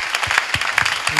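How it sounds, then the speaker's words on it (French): A church congregation applauds together, a dense, steady wash of many hands clapping close and loud, with faint voices mixed into the crowd. "Acclamons très très fort."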